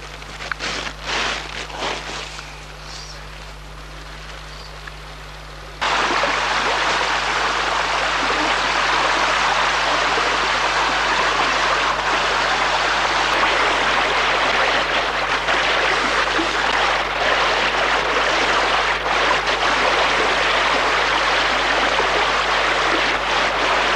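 Loud, steady rush of a stream flowing close by, a broad constant wash of water that starts abruptly after a few seconds of quieter rumbling and continues unchanged.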